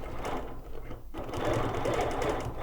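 A sewing machine started by pressing the foot control runs steadily and continuously, close by and fairly loud, with a brief dip near the start before the motor hum settles into an even whir.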